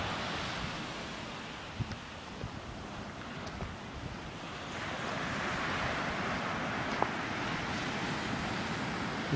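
Ocean surf and wind at a seaside cemetery in Saint-Paul, Réunion: a steady, fairly faint roar of waves mixed with gusty wind buffeting the microphone, along with a few small knocks and no talking.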